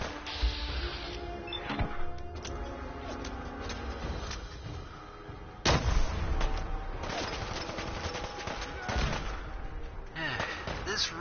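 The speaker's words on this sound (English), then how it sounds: "Who the heck is throwing all the grenades at me?" Rapid grenade explosions and gunfire burst repeatedly in Fallout 4 combat, sharp blasts stacking over a busy game soundscape while someone talks throughout.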